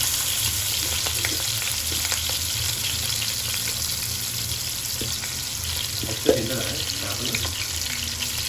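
Fish pieces frying in hot oil in a home kitchen, a steady close sizzle and crackle throughout, with a brief clatter partway through.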